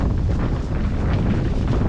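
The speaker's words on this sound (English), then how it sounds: "It's gotten windy." Wind blowing hard outdoors beside a tiny house, a dense, loud, steady rumble of gusts buffeting the microphone for the whole stretch, with no one talking.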